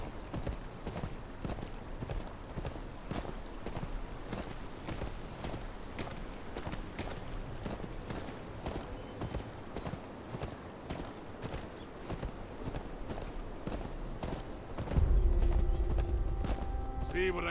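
Horse hooves clip-clop steadily on a mount in a fantasy video game set on the road to Winterfell, a continuous rhythmic walking beat under game music and character dialogue, with a louder low swell near the end.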